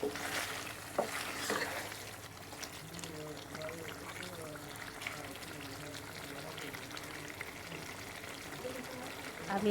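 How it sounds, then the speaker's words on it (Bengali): Chicken curry (murgir jhal) being stirred in a pan, a steady soft sizzle and scraping of meat turned through the spices, with a few louder clunks near the start and a continuous frying hiss throughout. "তো আমি ঢাকনাটা খুলে মাংসটা ভালো করে নেড়ে চেড়ে দিচ্ছি, যাতে সবটুকু মশলার সাথে মাংসটা ভালোভাবে মিশে যায়।"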